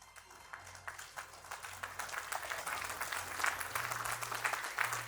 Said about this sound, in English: Ladies and gentlemen, a round of applause for Dominic Samma for Veil of Dust.